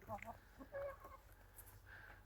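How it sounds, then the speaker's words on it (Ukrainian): Hens cluck in short bursts nearby, a few soft clucks spread across the moment, with faint background noise. "Кури гуляють. На дворі цілий день і несуться."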